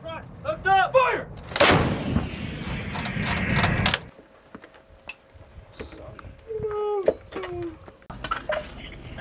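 An M777 155mm howitzer fires with a single huge blast at a United States military firing position, and the boom rolls on for a couple of seconds. Crew members shout commands before and after the shot.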